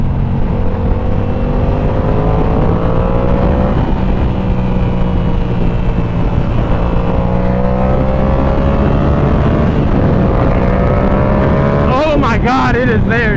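A 2022 Yamaha R7 sport bike fitted with a Yoshimura exhaust pulls hard under steady throttle, its engine drone rising in pitch through the gears over heavy wind rush, with a rider's voice breaking in near the end.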